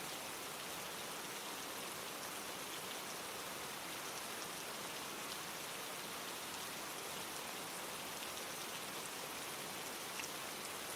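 Steady rain falling on a surface, a dense even hiss of drops that continues without break, moderately faint and unaccompanied.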